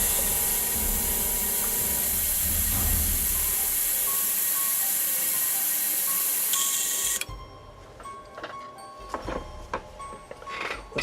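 An airbrush sprays with a steady, close hiss for about seven seconds, then cuts off, leaving quiet clicks and handling noises.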